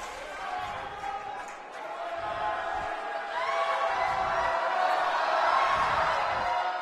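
Loud crowd noise fills a college basketball semifinal between Crown College and North Central University, a steady roar of cheering voices that swells louder through the second half, with ball bounces and whoops mixed in.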